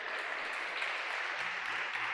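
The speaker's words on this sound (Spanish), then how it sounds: "Damos palmas fuertes al Señor." Church congregation clapping loudly and steadily, a thick continuous burst of many hands filling the room for a couple of seconds.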